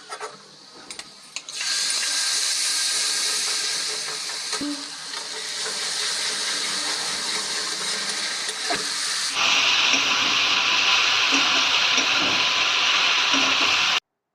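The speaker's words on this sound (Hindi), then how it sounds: "तो यहाँ पर सिंपल से मसाले डाल के तोरी की सब्जी जो है छौंक दी है।" Simple spices sizzling in hot oil while tempering a ridge gourd curry, a steady hissing fry that swells louder after a few seconds and carries on close by without pause.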